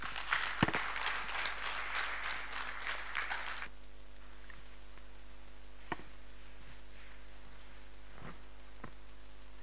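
Audience applause at a 2023 Bishop Stuart University public lecture fills roughly the first three and a half seconds, then breaks off abruptly into a quiet room with steady hum and a few faint ticks and knocks.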